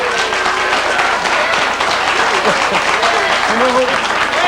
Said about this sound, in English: Are you applauding that?